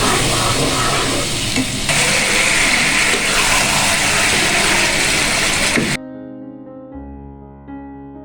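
Chicken roast sizzling loudly in a pan, a dense continuous frying hiss with stirring scrapes, cutting off abruptly near the end to leave a quieter tonal hum.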